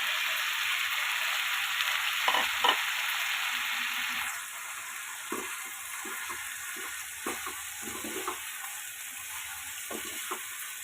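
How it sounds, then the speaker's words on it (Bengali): Boiled banana flower being stirred into a sizzling spice mix for a vegetarian ghonto, a strong sizzle that quiets after a few seconds, followed by scattered scraping stirs of a spatula in the pan. "ভালো করে আমি এবার মিশিয়ে নেব।"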